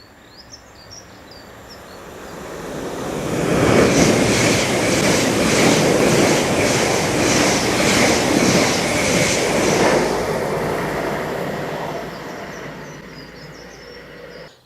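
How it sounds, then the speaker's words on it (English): A train rumbles through Hatfield Peverel station, swelling in from quiet, roaring steadily with rhythmic wheel clatter for several seconds, then fading away; no voices. "Oh, we've got another train coming through."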